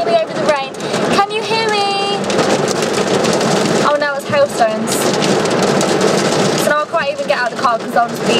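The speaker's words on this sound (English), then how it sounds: "you can't hear me over the rain. Can you hear me? Oh, now it's hailstones." Heavy rain and hailstones pound down in a loud, constant roar, with a voice speaking loudly over the downpour throughout.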